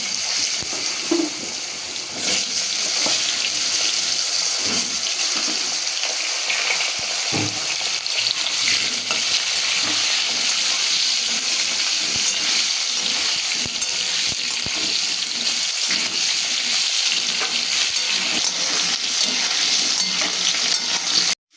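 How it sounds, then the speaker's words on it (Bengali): Cut potatoes frying in oil after a cumin seed tempering, a steady close sizzle with occasional stirring scrapes throughout, no voices. "দিয়ে দিচ্ছি জিরে ফোড়ন, দিচ্ছি কেটে রাখা আলু।"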